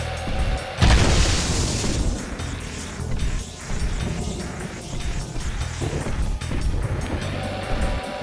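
The Peacemaker gun in Jak II fires one loud booming blast near the start, followed by a rumbling, crashing aftermath of lower-level impacts and game noise.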